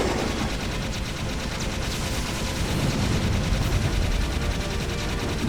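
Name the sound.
Vulcan Fury gunfire in video game Jak 3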